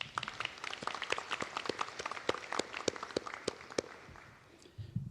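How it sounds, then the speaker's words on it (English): Sustained applause from a crowd at a university graduation ceremony, many hands clapping in a dense, steady patter that thins out toward the end. "I think all of you deserve a huge round of applause"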